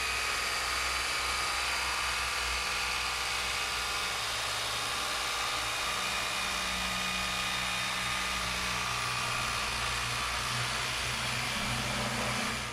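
A small polishing machine works over the curved edges and recesses of a 1993 Mercedes W124 body with a disc and paste, giving off a steady, continuous whirring drone that rises slightly in pitch partway through, with no voices.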